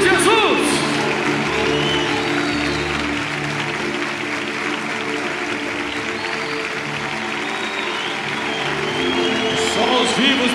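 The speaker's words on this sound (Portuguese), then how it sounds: "aplaudindo Jesus" Crowd applause at a church miracle crusade, sustained clapping from a large congregation with voices and music beneath, holding steady across the whole stretch.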